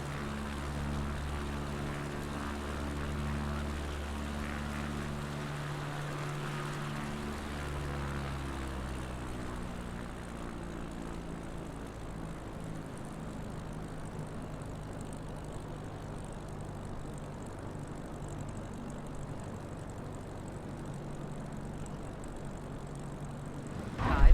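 Grumman G-21A Goose propeller plane in flight in a flight simulator game, a steady droning engine hum with strong low harmonics that shift in pitch partway through, then settle into a smoother, quieter whine until a brief bump at the end.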